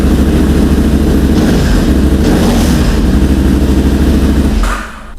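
A 2010 KTM 990 motorcycle engine running loud and close with a steady, rough idle throb that suddenly cuts off near the end, leaving quiet.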